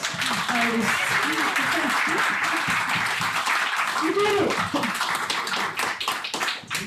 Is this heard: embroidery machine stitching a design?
no